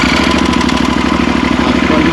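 A motorcycle engine idles steadily and loudly close by, a fast even low-pitched throb with no break, in the open air on a long touring ride.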